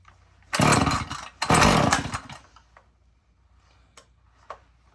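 A chainsaw with an auto choke and decompression valve is pulled to a cold start, giving two loud ripping bursts of engine noise close by, then settling into faint, irregular ticks and sputters.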